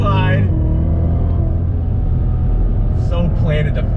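A Cadillac CTS-V Championship Edition sedan under throttle, its engine a loud, steady low rumble running continuously through the clip, with a brief rise near the start and a voice talking over it.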